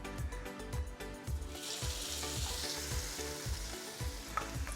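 Spinach leaves dipped in bajji batter sizzling in hot oil in a pan, a steady bright crackle with soft rhythmic stirring thumps underneath.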